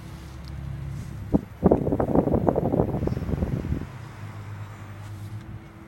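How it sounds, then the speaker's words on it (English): Cold wind blows outdoors beside a Mitsubishi Electric ductless heat pump running in heat mode: a low steady hum is broken by a rough, buffeting gust lasting a few seconds before it settles again. "Very windy."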